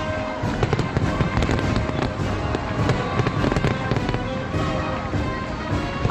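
Independence Day fireworks crackle and pop in a dense, continuous barrage, loud and steady throughout with no voices.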